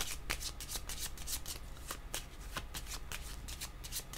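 Tarot cards being shuffled by hand at close range, a steady continuous riffling and flicking with rapid papery slaps over several seconds.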